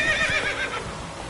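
A horse whinnies in The Witcher 3: Wild Hunt, a single bright, wavering neigh close up with faint hoof sounds beneath.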